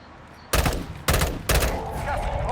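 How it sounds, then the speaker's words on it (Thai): An M16 firing three-round bursts in Call of Duty Warzone Mobile, heard as three loud, abrupt gunfire blasts spaced about half a second apart, each ringing out briefly over quiet game ambience. "อ้าว มัน เบิร์ดออโต้เหรอ มันยิงทีละสามนัดว่ะ"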